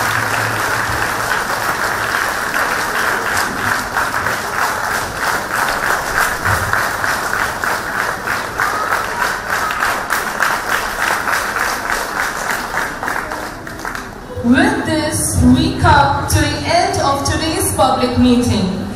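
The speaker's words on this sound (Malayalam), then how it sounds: "കൈയടിച്ച് എല്ലാവരും ചേർന്ന് കൈയടിച്ച്" A church congregation at a consecration ceremony applauds the bishop as a memento is presented, steady dense clapping filling the hall for about fourteen seconds before speech takes over near the end.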